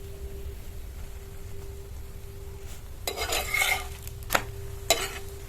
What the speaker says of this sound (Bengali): এই পরোটাগুলো কিন্তু একটু বেশি পরিমাণে তেল দিয়ে ভেজে নিতে হবে